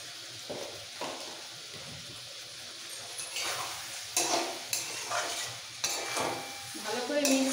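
Potatoes and drumsticks in a poppy-seed paste are stirred in a pan, with a soft sizzle beneath repeated scraping strokes of a spatula that grow louder and more frequent.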